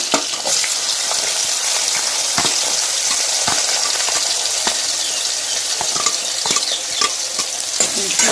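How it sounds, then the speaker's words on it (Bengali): Nigella seeds fry in hot oil alongside bay leaves, giving a steady, loud sizzle throughout, with scraping and clicking from a spoon stirring the pan and no talking. "দিয়ে দিলাম কালো জিরা ফোড়ন, একটু নাড়াচাড়া করে ভালোভাবে"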